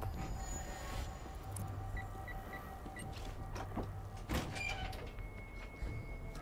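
In the New York map of the shooter game World War Z: Aftermath, a trap door slides with a faint low mechanical grind for a couple of seconds, ending in a soft thud amid quiet game ambience.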